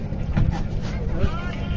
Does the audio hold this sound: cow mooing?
no